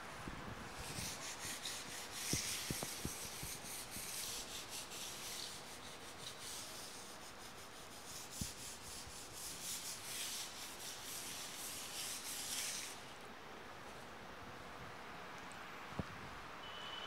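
Writing is rubbed off a classroom board in a steady, soft scrubbing rasp that continues for many seconds, with a few faint taps, then eases near the end.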